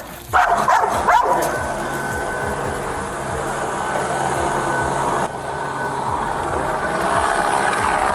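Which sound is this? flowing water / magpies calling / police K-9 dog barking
police K-9 dog barking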